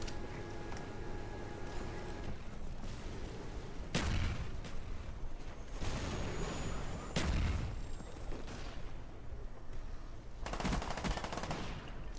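Rapid automatic gunfire from a video game, with bursts of machine-gun fire and sharper shot cracks that swell and fade across several loud volleys, some overlapping like a firefight.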